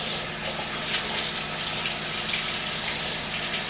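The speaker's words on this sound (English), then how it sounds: "I'll rinse these really quick under some running water" Tap water runs steadily under a kitchen faucet as fresh asparagus spears are rinsed beneath the stream, a constant close hiss and splash with no talking.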